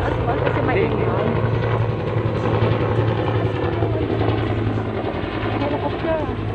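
A helicopter passes overhead on a farm, its steady engine and rotor drone continuous and fairly loud throughout.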